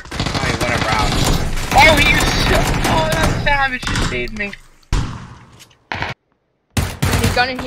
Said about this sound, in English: Christ, Tio, when you shoot that gun, the lag that comes out.